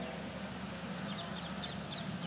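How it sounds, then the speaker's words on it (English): Several birds calling outdoors, identified as parrots in flight, give a few short, harsh, repeated squawks over a steady background hum at moderate distance. "See, there are parrots flying."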